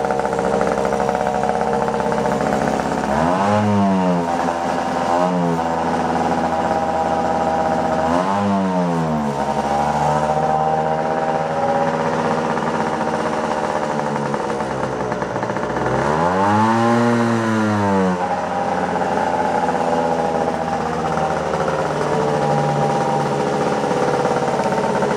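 A Puch Maxi moped engine tuned too lean revs up in several short bursts, each blip rising and falling off sharply before settling back to a high, buzzy idle, loud and close with no talk.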